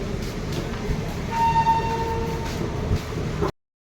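A train runs with a steady rumble and rattle of the railcars, a short tonal whine rising in the middle before the sound cuts off abruptly.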